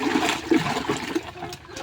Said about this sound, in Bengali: মেডিসিনের পানিগুলো আমি খুব ভালোভাবে মিশিয়ে নিব